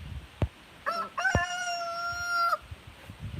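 A rooster on a farm gives one full cock-a-doodle-doo crow, loud and close, with a sharp knock just before and quieter farmyard noise after.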